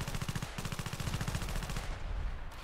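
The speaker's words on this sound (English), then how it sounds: "Oh, like this FN57 or this Honey Badger rifle." Rapid automatic gunfire from an FN57 or Honey Badger rifle in the sandbox shooter game Ravenfield, a fast even burst of close, loud shots lasting about two seconds before stopping.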